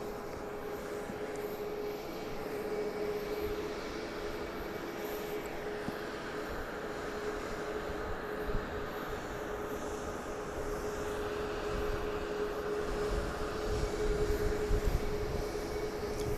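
A Southwest Airlines Boeing 737 MAX 8 jet passes at Dallas Love Field, a faint, steady engine roar with a thin whine that swells slightly toward the end, heard at a distance with no talk.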